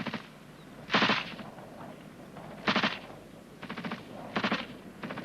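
British Army machine gun giving covering fire during a section assault: four loud, sharp bursts of rapid automatic fire separated by short pauses, heard alone.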